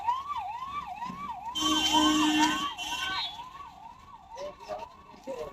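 An ambulance siren wails in a rapid rising-falling pattern as it passes, fairly close, with traffic noise and a brief voice underneath.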